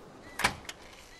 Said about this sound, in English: RV door.